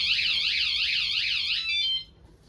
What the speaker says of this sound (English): If somebody was to shake your bike, it'll give them that. If they're to shake it again, it goes off.